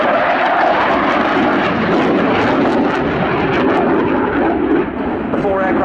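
A French Air Force Rafale fighter jet roars loudly and steadily overhead, a dense continuous engine rush with a slight dip near the end; a voice appears to talk beneath it.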